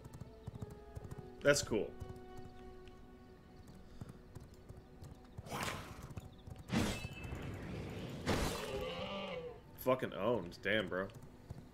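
A horse galloping in the video game V Rising: quick hoofbeat clip-clops near the listener, mixed with excited talking and bursts of game effects.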